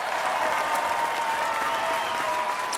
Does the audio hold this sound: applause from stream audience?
yes